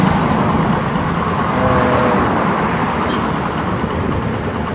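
A car travelling along a road, its engine and tyre noise forming a loud, continuous close-up rumble that holds steady throughout with no speech.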